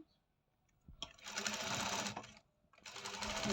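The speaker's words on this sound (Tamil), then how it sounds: "நான் இந்த பக்கம் தையல் ஸ்டார்ட் பண்ணுறேங்க லேஸ் வைக்கிறதுக்கு" A sewing machine stitches lace onto a garment neckline in two steady, close runs with a short pause between them, and a faint voice is heard at the start.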